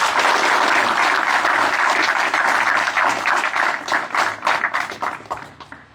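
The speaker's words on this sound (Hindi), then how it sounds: "एक बार जोरदार तालियों से सर का धन्यवाद करें" A large crowd at a Garhwal Rifles regimental centre event claps loudly and steadily in a sustained ovation for the commandant, thinning into separate, distinct claps over the last couple of seconds.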